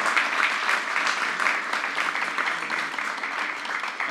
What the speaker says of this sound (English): Let's have a round of applause for our guests today.